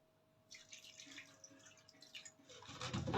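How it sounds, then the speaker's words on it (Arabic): Cups of water are poured into a cooking pot, a soft splashing stream that starts after a brief quiet moment and grows louder near the end, with no talking. "وبعد كده انزل بكوبايتين ميه"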